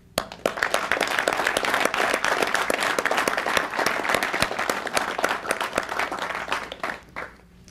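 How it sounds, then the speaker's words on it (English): A graduation crowd at a police academy ceremony breaks into sustained applause, dense and even clapping from many hands that holds for several seconds before tapering off at the end. "You all deserve a round of applause."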